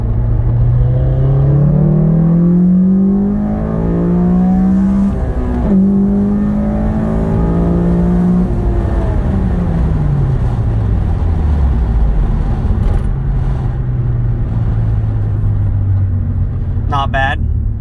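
A Honda Civic Si FA5 pulls hard through second gear from about 3,500 RPM, a loud engine drone climbing steadily in pitch before easing off, with a little speech underneath.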